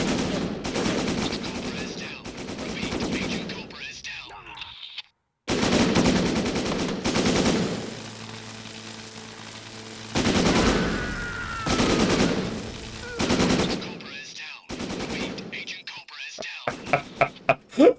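Repeated bursts of automatic and single gunfire in the Syphon Filter: Omega Strain video game, coming in loud clustered volleys with brief gaps and one near-silent pause, and a little faint voice in between.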